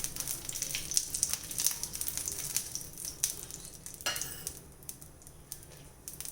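Oil, ghee and butter sizzling on a dosa tawa heating over a high flame, a steady quiet crackle with faint metallic clinks of a spoon.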